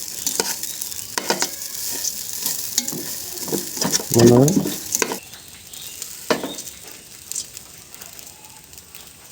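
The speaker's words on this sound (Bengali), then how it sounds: "এই ভাজাটা একটু সময় নিয়ে এইভাবে আস্তে আস্তে ভাজতে হবে।" Ingredients for Bengali khichuri fry in a pot over a low flame, stirred in repeated scraping strokes over a steady sizzle, with one louder burst of stirring midway and a brief spoken phrase.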